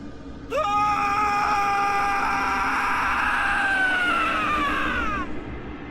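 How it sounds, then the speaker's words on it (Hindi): A man screams loudly and at length in a Hindi ghost story, a sustained, strained cry with shifting pitch over a low background hum, breaking off near the end. "राघव जोर जोर से चिल्लाने लगा।"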